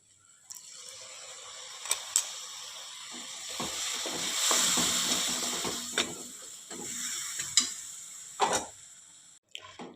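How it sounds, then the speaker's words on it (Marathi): Ground masala paste with a little water roasting in a hot pan for a Maharashtrian vegetable curry, a steady close sizzle and crackle with scattered sharp clicks and spoon scrapes, swelling midway and ending abruptly. "आपल्याला हे मसाले छान असे तेल सुटेपर्यंत भाजून घ्यायचे आहेत"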